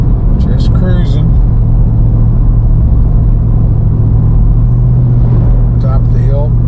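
A 2023 Ford Raptor R cruises uphill at about 1800 RPM, giving a loud, deep, continuous engine rumble and road drone inside the cab, while someone talks over it in short bursts.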